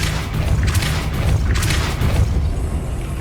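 A heavy, booming blast from a Depulso spell in Hogwarts Legacy rolls out loud and sustained, with a rumbling low body and a couple of sharper crackling surges.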